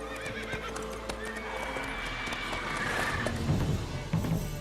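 Roach, a horse in The Witcher 3 game, gives a loud whinnying neigh over layered game ambience, with clip-clopping hooves and a busy background throughout.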